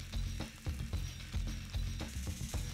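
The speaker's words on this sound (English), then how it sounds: "Once the chops are sizzling and browned on both sides" Pork chops sizzle directly on glowing embers, a steady close crackle broken by regular soft thuds and clatters every half second or so, with no talking.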